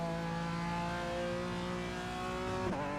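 A BMW race car engine in the iRacing sim holds a steady, droning rev that shifts pitch near the end, as if the revs drop during a gear change, with no talk over it.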